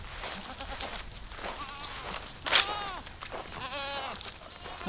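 Spanish and Kiko goats on a farm bleat in wavering cries, one loud call near the middle and another series toward the end, over a steady outdoor background.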